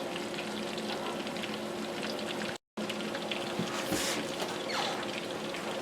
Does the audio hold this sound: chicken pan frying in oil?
yes